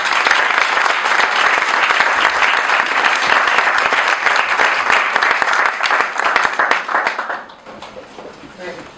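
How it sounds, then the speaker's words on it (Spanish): An audience at a nonprofit organizations event applauds everyone, a loud, dense, sustained wave of clapping that thins and fades near the end as voices start to come through. "Un aplauso para todos."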